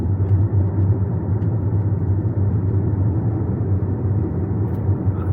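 A BMW X1 in Sport Plus driving mode makes a steady, low engine rumble heard from inside the car, with even drone and no talking over it.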